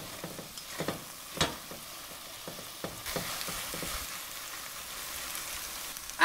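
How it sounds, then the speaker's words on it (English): Mushroom and baby corn herb gravy fries and sizzles in a pan, with a spoon scraping and stirring in irregular clacks and scrapes over a steady close hiss, no talking. "You have to keep stirring till you find it sticking to the bottom."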